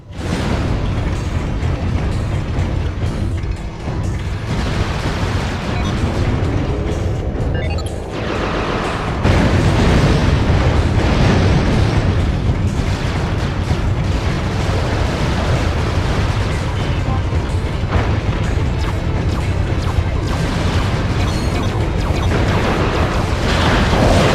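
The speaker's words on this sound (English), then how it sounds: "you will have to use the Landstalker's mortars to destroy those quasar orbs" Landstalker mortar blasts destroy quasar orbs in Ratchet: Deadlocked. The loud, continuous barrage of booms and crackling bursts carries on without pause, swelling heavier partway through.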